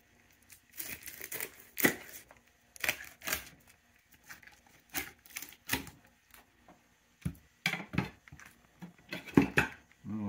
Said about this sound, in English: And then we're going to take the head off.